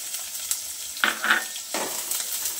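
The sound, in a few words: onion frying in oil with mustard seeds and cumin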